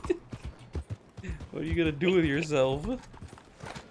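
Horse hooves clip-clop in a video game while the player runs alongside the horse, a soft rhythmic patter of steps mixed under steady conversation and a brief melodic game sound.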